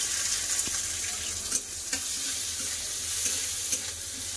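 Chopped onions hit hot oil seasoned with bay leaf and cumin, giving a steady close sizzle with occasional soft stirring knocks and scrapes, no voices.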